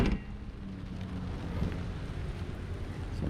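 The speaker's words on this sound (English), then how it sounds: "It's raining a little bit more, so I'm gonna go inside." Rain falls outdoors around a 2006 GMC Sierra 1500 pickup, a soft, steady hiss with some wind buffeting the microphone and a low rumble underneath, fairly quiet and without talking.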